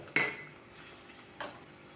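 A metal ladle knocks against a pot while mashing rice cooked in milk, two sharp clanks about a second apart, close and clear over quiet background.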